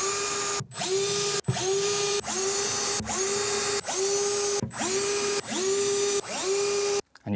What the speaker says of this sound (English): You can then drill this into position.